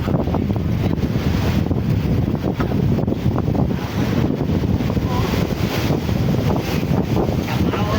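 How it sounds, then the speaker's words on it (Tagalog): Strong wind blows at sea on a service boat, buffeting the microphone in a dense, continuous roar. Water noise churns underneath, and it stays loud throughout. "unti-unti na pong lumakas ang hangin"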